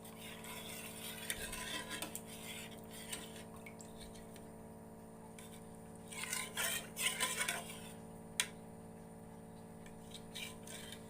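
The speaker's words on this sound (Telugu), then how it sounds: "గుంటలు లేకుండా కలుపుకోవాలండి" A spoon stirs sambar powder into sambar in a pot, giving quiet, intermittent scraping and clinking against the metal with soft liquid sloshing, close and unhurried, with no talking.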